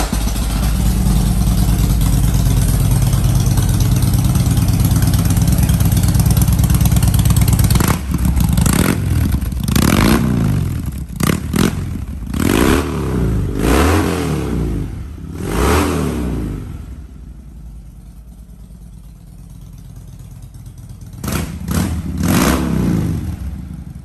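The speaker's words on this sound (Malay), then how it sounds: "Okey, jom kita start tengok ini Harley Davidson White Glide, bunyi dia macam mana." A 2014 Harley-Davidson Dyna Wide Glide, 1584cc, with an upgraded aftermarket exhaust, rumbles loudly at idle, then fires through a series of sharp throttle blips and revs before settling, close and alone.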